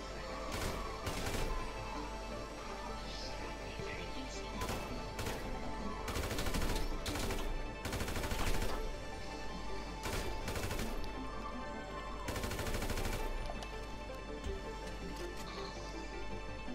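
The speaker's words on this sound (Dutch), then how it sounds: "Ik schiet. Het eerste schot ging goed naast hem." Gunfire in a video game bank robbery: loud bursts of shots, some single and some in rapid clusters, ring out repeatedly over a steady low game background, with no talking.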